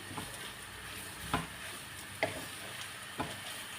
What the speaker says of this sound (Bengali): তারপরে একটু ভাজা ভাজা করে নিচ্ছি